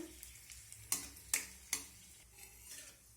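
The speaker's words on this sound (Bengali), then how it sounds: "এখন তেলের মধ্যে শুকনো লঙ্কা আর কালো জিরাটাকে ভেজে নেব।" Dried red chillies and black cumin seeds fry in hot oil with a soft, steady sizzle, broken by a few sharp stirring clinks against the pan.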